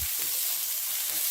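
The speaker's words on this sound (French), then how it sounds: "On remue. Les poivrons. Et on remue pendant 1 minute." Sliced bell peppers sizzle quietly in a frying pan with a soft hiss, while a brief stirring scrape sounds at the start.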